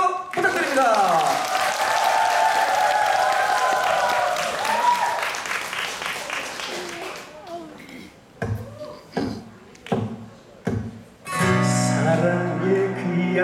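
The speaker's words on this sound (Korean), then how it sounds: "여러분 큰 박수 부탁드립니다." Loud audience applause and cheering at a televised trot singing competition, blended with rising music for several seconds, then fading into intermittent voices and sharp sounds before the music swells again.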